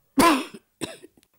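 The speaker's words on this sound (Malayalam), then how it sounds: "ഈ ചുമ തുടങ്ങിയിട്ട് രണ്ടു കൊല്ലമായി" A harsh chronic cough of two years bursts out, followed by a second shorter cough and a faint throaty catch, close and clear with no talking.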